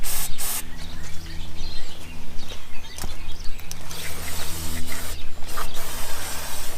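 Cleaner sprays in short hissing bursts onto the carburetor of a 1968 Evinrude 65 hp V4 outboard motor, loud and close over a steady low mechanical hum, with occasional clicks and rattles.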